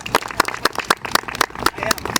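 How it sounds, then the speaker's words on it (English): Audience clapping at a City of Duluth press conference, a room of hands applauding with distinct uneven claps, fairly close and steady throughout. "let's have a round of applause for Adam Swanson"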